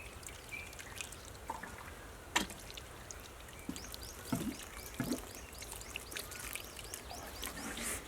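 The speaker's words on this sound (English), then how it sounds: "last step, just going to give them a bit of water." Potted succulents are watered, giving faint, scattered drips and short pours that trickle into the soil in quiet bursts spread over several seconds, with no voices.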